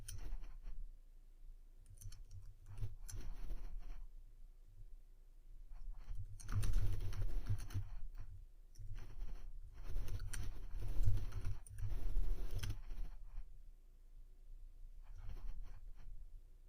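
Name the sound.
typing on a computer keyboard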